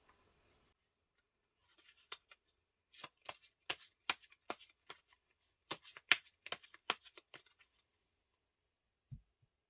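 Tarot cards are shuffled and drawn close up, a quiet run of crisp riffling snaps and flicks in irregular bursts, ending with a soft thud after a brief pause.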